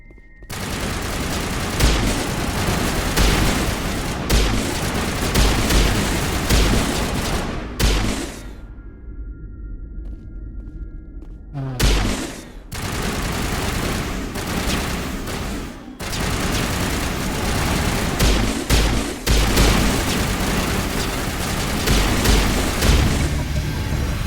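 A Mass Effect shootout with dense, continuous rifle fire and heavy booms, loud and close, broken by a short lull before the volleys resume at full intensity.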